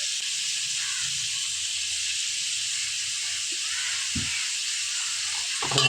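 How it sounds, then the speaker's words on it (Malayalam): Masala sizzling with salt in a pan for a pork roast, a steady close hiss of frying that holds evenly throughout, with a few faint scrapes of stirring near the end. "നമ്മൾ ഇത് ശരിക്കും വഴറ്റിയെടുക്കണം. ഇതിനകത്ത് കുറച്ച് ഉപ്പ് കൂടി ഇടണം."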